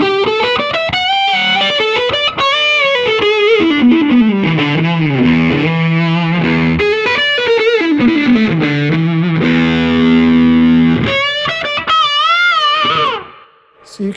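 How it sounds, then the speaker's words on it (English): Electric guitar played through a Way Huge Swollen Pickle Jumbo Fuzz MKII pedal, a thick, saturated fuzz tone carrying sustained chords and melodic bends, loud and continuous for most of the passage before fading near the end. "you can hear how it really smooths out the edges of the fuzz"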